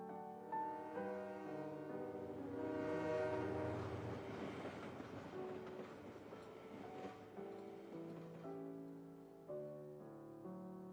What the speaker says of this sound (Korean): 다시 떠나가는 기차 소리가 완전히 사라질 때까지